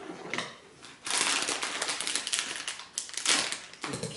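Scissors cut open a cracker package, giving several crisp bursts of crackling plastic, close and loud, with brief pauses between the cuts.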